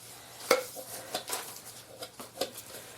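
Folded paper slips stirred around inside a small pot, giving a few scattered light clinks and rustling scrapes, near and fairly quiet with sharp taps at irregular intervals.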